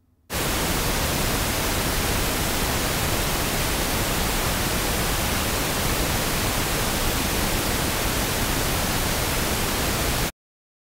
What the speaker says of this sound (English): take the test using pink noise in your own digital audio workstation